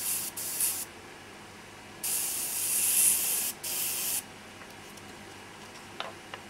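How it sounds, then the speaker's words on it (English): An airbrush sprays paint over a stencil while an eye is being painted, heard as three airy hissing bursts, a short one first and then two longer ones close together, each stopping cleanly into near quiet. "So whatever I spray is not going to affect the highlight."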